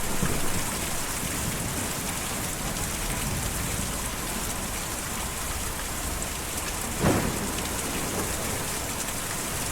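Steady rain in the video game Kentucky Route Zero, an even hissing patter throughout with one brief, sharper burst near the end, and no talking.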